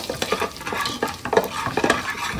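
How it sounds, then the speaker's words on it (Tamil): Mustard seeds spluttering and popping in hot oil for a South Indian kovakkai kara kuzhambu, with steady close sizzle broken by frequent sharp pops and faint stirring scrapes, no voices. "கடுகு நல்லா பொரியுது"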